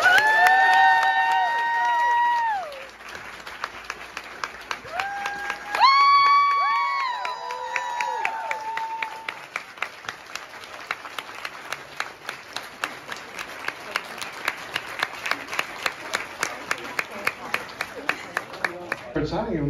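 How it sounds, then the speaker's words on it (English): Audience at a book event with authors applauds and cheers loudly, a dense wash of clapping with whoops and shouts over the first several seconds, then steadier clapping that continues to the end. "Please give a loud, loud round of applause for Stephen Graham Jones and Paul Tremblay."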